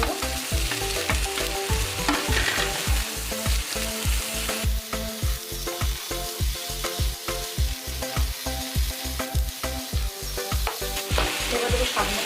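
Chicken and broccoli stir-fry in a hot pan, a steady sizzle broken by regular, rhythmic scraping strokes of a spatula, close and fairly loud with no talking.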